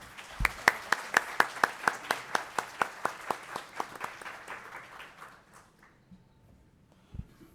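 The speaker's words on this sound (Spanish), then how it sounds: "También pido un aplauso para la maestra Anaí Juan Durán." A small audience claps for a teacher receiving recognition at a judicial archives panel, sharp individual claps in a brisk steady rhythm that fade out after about five seconds, followed by near silence and a faint thump.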